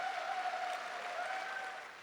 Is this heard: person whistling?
no